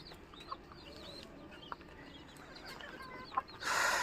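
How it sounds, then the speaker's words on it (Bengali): Native (deshi) chicken chicks at a backyard duck and poultry farm give soft scattered chirps and clucks while feeding, with a few sharper calls standing out over a low steady background. "একদম দেশি মুরগির বাচ্চা।"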